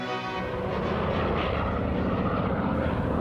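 A propeller-driven aircraft of the Berlin airlift drones past, a loud, continuous engine rumble with a steady low throb filling the whole stretch, alone without voices.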